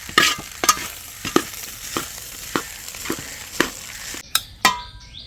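Butter garlic tandoori chicken fries in a pan with a steady crackling sizzle, broken by sharp, regular clicks and scrapes from stirring, close and alone.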